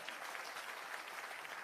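An audience at a political organisers' gathering claps steadily in a dense, continuous wash of applause, even in loudness throughout, with no voices standing out.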